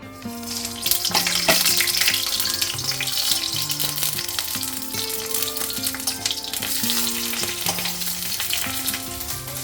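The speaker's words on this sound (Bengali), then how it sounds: "এই পুটুলিগুলোকে আমি অল্প তেলে হালকা হালকা একটা ব্রাউন কালার আনবো" Pointed gourd parcels browning gently in a little oil: a steady bright sizzle with soft stirring scrapes, close and even throughout, over a tonal musical background.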